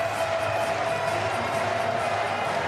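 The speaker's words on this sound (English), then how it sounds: "The crowd is into it." A late-night college basketball game on a cold winter night in Columbia, Missouri, with Mizzou hosting Georgia in a close contest, and the arena crowd roaring in a steady, dense wash of cheering noise with no distinct breaks.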